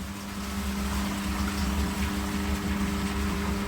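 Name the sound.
koi pond filter pump purging water with air turned off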